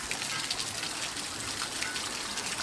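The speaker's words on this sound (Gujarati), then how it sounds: "અત્યારે વરસાદ આવ્યો છે ફૂલ અત્યારે અચાનક" Heavy rain pours down in a steady, dense roar of falling water, loud and unbroken from start to finish with no voices.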